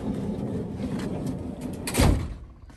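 Rear hatch of a VW Type 2 Westfalia camper van being opened, a single loud clunk and rattle of the latch and lid close by after a stretch of quiet handling noise, then fading away.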